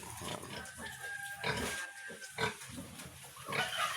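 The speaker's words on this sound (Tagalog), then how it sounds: "Ayan, anong malulusog na biik." Newborn piglets and adult native pigs on a small farm, a litter of eight, giving soft grunts, oinks and squeals at close range, with faint chicken clucks in the background.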